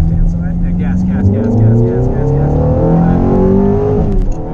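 A Ferrari accelerates on a race track during a track day, its engine note climbing steadily and loud up close, with a voice talking over it.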